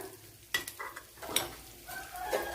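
Whole fennel seeds, cloves, cardamom pods and cinnamon stick drop into hot oil in a pan for potato curry, giving a soft sizzle with a few sharp clatters and stirring scrapes, close and moderately quiet.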